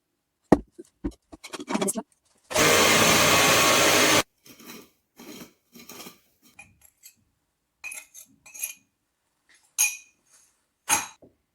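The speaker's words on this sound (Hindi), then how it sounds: "तो अभी तो यह चीनी मैं खुद ही घर में पीसूंगी" Granulated sugar being ground into powder at home in a grinder: a single loud, dense roar of about two seconds, set among scattered clinks and handling knocks of the jar and lid.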